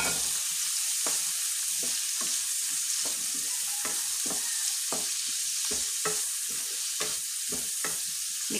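Garlic, ginger and onion frying in a pan with a constant loud sizzle, while a utensil stirs and scrapes in a steady rhythm of about one stroke per second.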